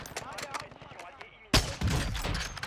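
Call of Duty Warzone 2 gunfire: scattered faint pops, then a sudden loud nearby volley of shots followed by a sustained burst of firing.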